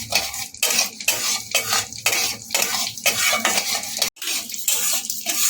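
Gobindobhog rice being stirred in a wok over low gas heat, with a metal spoon scraping and clattering against the pan in a quick, repeated rhythm over a soft sizzle, close and loud, with no talk.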